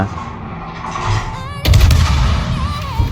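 Ship guns firing in World of Warships: a heavy, loud salvo erupts mid-way and rolls into a sustained booming rumble, following quieter engine and ambient game noise.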